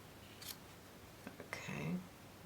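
Scissors cutting pom pom yarn, a few faint quiet snips close by in a hushed room, with a soft murmur near the end.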